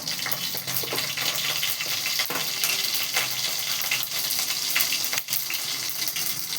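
Groundnut oil goes into a hot pan for Tirunelveli poruma kuzhambu, giving a close, continuous hiss and sizzle with scattered crackles and no voices.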